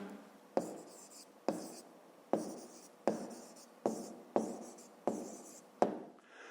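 A pen writes an answer by hand on paper in quick separate strokes, about eight sharp scratchy bursts at a fairly even pace, close and clear, with no voice over them.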